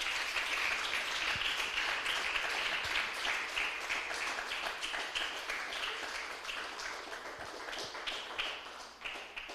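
Applause from a church congregation at a worship service, steady close clapping that continues for several seconds with individual claps standing out and a few faint voices beneath.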